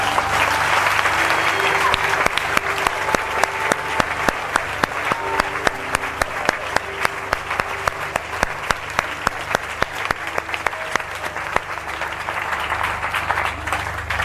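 A congregation at a deliverance service in Gabon bursts into sustained clapping and cheering, dense applause running the whole time with sharp individual claps standing out above the crowd's roar.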